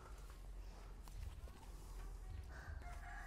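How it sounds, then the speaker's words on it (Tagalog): An El Gama Gray broodcock rooster on a gamefowl farm, heard as faint, close clucks and scuffling movement against low background noise over a few seconds. "Ito naman yung isang broodcock ko na binili ko kay Buddy Roel Amano"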